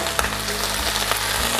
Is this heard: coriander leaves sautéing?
yes